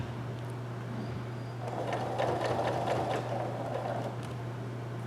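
Sewing machine stitching a sweatshirt pocket, a steady mechanical whir that swells in the middle of the run over a constant low hum, sewing a small backstitch before running down the seam.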